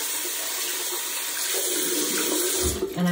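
Running water pours from a tap while a makeup-removing cloth is scrubbed beneath it, a steady close splashing wash with a brief louder slosh near the end.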